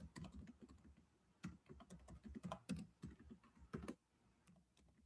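Someone types an email address on a computer keyboard in quick, uneven bursts of close, crisp keystrokes with short pauses between them.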